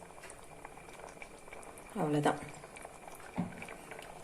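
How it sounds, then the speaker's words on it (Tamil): Banana flower kurma simmering gently in a pan, a soft steady bubbling under the talk of someone speaking nearby. "இது லேசாக கொதிச்சா போதும், அப்படியே நம்ம இறக்கிடலாம்."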